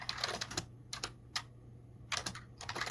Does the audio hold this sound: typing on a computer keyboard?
yes